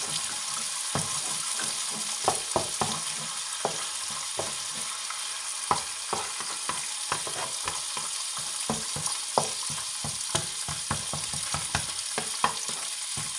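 Shrimp and egg frying in a pan for shrimp fried rice, a steady hiss of sizzling oil broken by frequent scrapes and taps of a utensil stirring, close and continuous, no talk.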